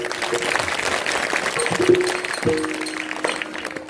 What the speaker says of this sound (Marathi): त्याच्यासाठी एकदा जोरात टाळी वाजवा